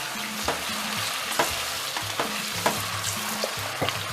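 Onion and tomato puree frying for goat stew, with a loud steady sizzle and regular scraping and clacking as a spoon stirs the pot, close by and with no talk.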